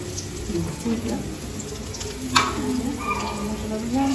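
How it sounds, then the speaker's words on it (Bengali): Slices of pointed gourd fry in oil in a pan in a home kitchen, giving a steady soft sizzle under background voices and clattering kitchen noise, with one brief sharp clink midway. "আর এদিকে আলু ভাজা চলছে।"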